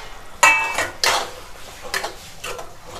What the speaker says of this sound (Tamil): சேர்த்துட்டு நல்லா கலந்து விட்டுருங்க.